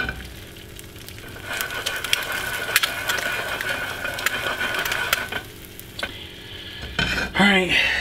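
An egg fries in a covered pan with a steady, moderate sizzle and scattered pops and ticks. A brief clatter near the end breaks the sizzle.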